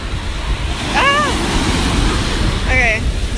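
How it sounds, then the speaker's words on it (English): Heavy surf pounding a sloping beach near a sea turtle nest, a continuous loud roar of breaking waves with wind buffeting the microphone, while a person's voice rises briefly twice over the din. "do you see how hard these waves are?"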